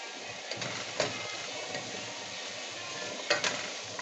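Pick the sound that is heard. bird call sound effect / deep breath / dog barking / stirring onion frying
stirring onion frying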